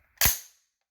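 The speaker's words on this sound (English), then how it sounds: "that closes the bolt and loads the first round" Bolt of a Del Ton AR-15 rifle slamming shut as the bolt release chambers the first round from a fresh magazine, a single sharp metallic clack that fades within a fraction of a second, close and alone.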